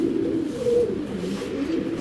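Racer pigeons in a Bangladeshi loft give soft, low, rolling coos, close by and fairly quiet, repeating in a continuous murmur.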